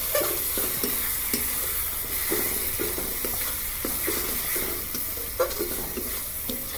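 Fenugreek leaf chicken curry sizzles steadily in a pan on a gas stove, with repeated soft scrapes of a spoon stirring at a close, moderate level.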